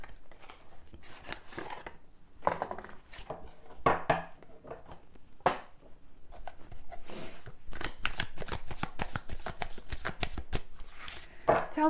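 Tarot cards handled and shuffled on a table, a run of quick papery riffles and flicks, close and moderately loud, with brief pauses between bursts and a denser stretch of rapid snaps toward the end.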